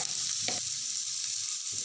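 Salt, turmeric, cumin and coriander powder fry in a pan for an Assamese fish curry with ginger leaves, a constant hissing sizzle punctuated by a couple of short stirring scrapes.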